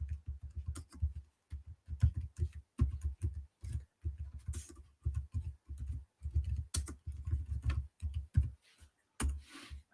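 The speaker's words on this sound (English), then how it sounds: "I'll type it in." Typing on a computer keyboard, close and fairly quiet, in irregular bursts of key presses with short pauses between them.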